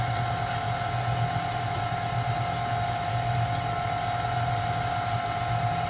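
An electric mixer beats cake batter with flour for a Louisiana crunch cake, a steady motor whir running unbroken and fairly quiet, with no voices.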